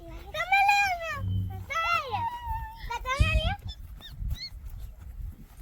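A young village puppy whimpering as it plays, a series of high, wavering whines in several close bursts, with low muffled voices and background rumble underneath.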